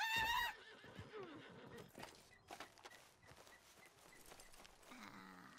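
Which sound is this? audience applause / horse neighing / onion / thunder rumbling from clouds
horse neighing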